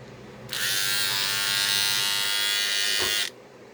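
A Manscaped Lawn Mower 3.0 electric body hair trimmer buzzes steadily at close range for about three seconds, a bright high-pitched whine that switches on and off abruptly.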